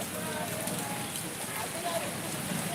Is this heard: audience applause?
no